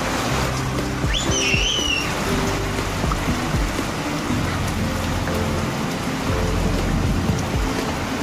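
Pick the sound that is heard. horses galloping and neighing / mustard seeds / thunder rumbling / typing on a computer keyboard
thunder rumbling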